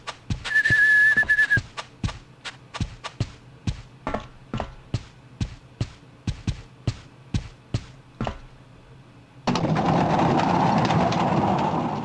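Short whistled tone from the horror video game Rule of Rose, held briefly near the start. A long run of regular, evenly spaced taps follows, and the clip ends in a loud burst of noise.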